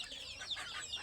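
Domestic desi chickens on a poultry farm cluck and call in a quick overlapping chorus, several birds close by, with no talk over them.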